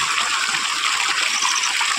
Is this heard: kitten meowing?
no